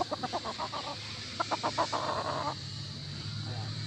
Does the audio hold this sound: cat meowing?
no